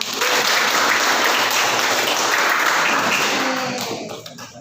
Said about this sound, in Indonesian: Kita kasih aplaus dulu untuk kita semua.